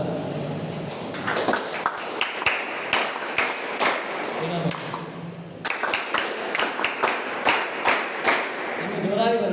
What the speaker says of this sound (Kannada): NSS ಕ್ಲಾಪ್ಸ್ ಒಮ್ಮೆ ಜೋರಾಗಿ ಹಾಕ್ಬೋದಾ?